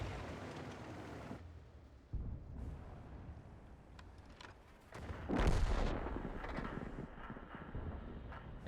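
Artillery fire in a tank battle video game: heavy booming impacts, one sharp blast early and a louder, rumbling explosion midway, over a steady low background rumble.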